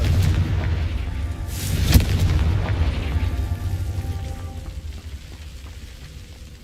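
A Confringo fire-blast spell goes off in a wizard video game, a single deep boom with a sharp crack near the start, then a broad rumbling roar that slowly fades.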